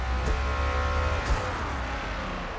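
A Ford Falcon FG X race car in Forza Motorsport is held at high revs near the red line at the start, a loud, steady engine drone with a brief blip partway through.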